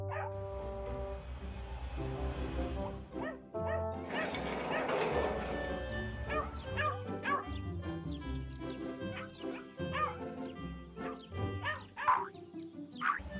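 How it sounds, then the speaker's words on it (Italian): A puppy gives small, high yips and whimpering barks in scattered bursts over a low background hum, with some rustling noise midway. "Il nostro cucciolo sta abbaiando e non è un sogno!"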